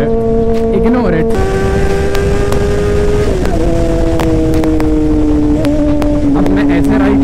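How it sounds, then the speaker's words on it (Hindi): Honda CBR 600RR motorcycle engine revving hard, a loud steady high-pitched whine whose pitch slides down through gear changes, with brief blips between shifts, close and continuous. "मैं भी थोड़ा सा इंजन अब्यूज़ कर देता हूँ"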